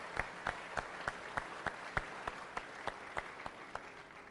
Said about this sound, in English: Let's give these supporters a round of applause.